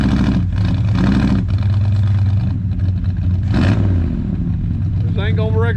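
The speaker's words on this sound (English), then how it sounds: "Look at that motor, it's rocking the car." A 1965 Ford Galaxie 500 hardtop's engine revs hard enough to rock the car, giving loud, close, throaty surges that rise and fall repeatedly, with brief voices near the end.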